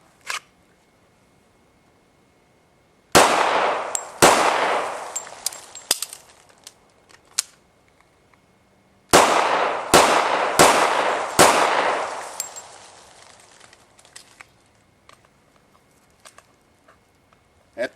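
Gunshots crack out on an outdoor shooting range in two quick volleys of several rounds each, loud and echoing, with a fading ring after each shot and faint scattered shots in between.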